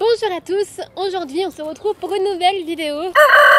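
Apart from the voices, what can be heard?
roosters crowing in the countryside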